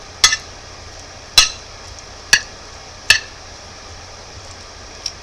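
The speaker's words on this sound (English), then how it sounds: "and then you mix it together into the egg noodles" Utensil stirring poppy seeds into egg noodles in a pan, five sharp metallic clinks spaced about a second apart with quiet between them.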